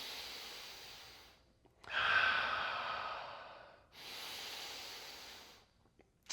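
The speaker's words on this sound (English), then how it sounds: "3 big breaths." Three slow, deep breaths during a fitness workout, each a long airy inhale or exhale close to the mic, separated by brief pauses, with no talking.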